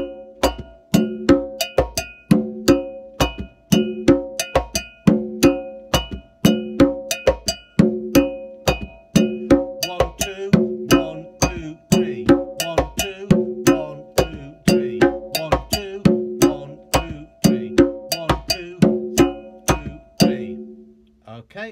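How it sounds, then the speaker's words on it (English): Sharp, bright clave clicks tap out a syncopated 2-3 clave pattern over looping hand-drum conga tones, played steadily and close without any voices. "so the 2-3 clave with the conga will sound like this."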